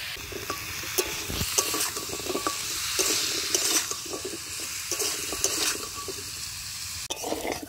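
Pieces of taro from a village garden fry in hot oil, a continuous soft sizzle with scattered metallic clinks and scrapes of a utensil against the pan, close by and moderately quiet.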